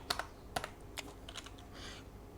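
Several keys are tapped on a computer keyboard, a handful of close, crisp clicks spaced unevenly over a faint steady background hum.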